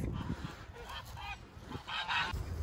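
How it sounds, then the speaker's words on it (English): Ducks call outdoors on condominium grounds at Lago Sul, giving a run of harsh, honking cries that repeat through the clip at moderate loudness, with no one talking over them. "These are the ducks."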